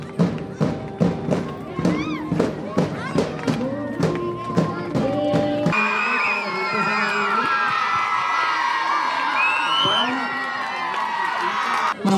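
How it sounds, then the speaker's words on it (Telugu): Hands clap in a steady, loud rhythm at a ceremony honouring a police officer's dedication to duty, then break into a dense crowd roar with shouts and whistles that runs to the end. "చప్పట్లో"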